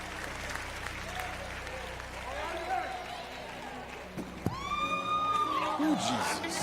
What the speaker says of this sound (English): Can we give God one more hand clap of praise